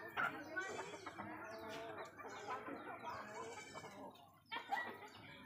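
A rooster clucks softly and repeatedly while eating paddy beside a rabbit in a rural farmyard, with intermittent calls over a quiet background.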